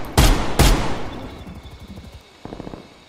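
Two loud, booming shots ring out in quick succession in the video game Call of Duty Cold War, followed by a rapid burst of lighter fire, then a short rattling volley near the end.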